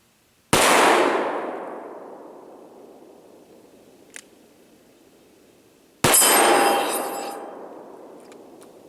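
Two loud, sharp revolver blasts from a Smith & Wesson 686 Plus .357 Magnum fired at long-range targets, spaced about five seconds apart, each ringing out with a long decaying echo and a faint metallic ping between them.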